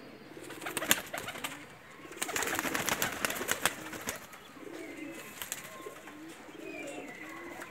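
Pakistani breeder pigeons coo softly in low, rolling calls amid fluttering and shuffling noises, the birds close by in an otherwise quiet space.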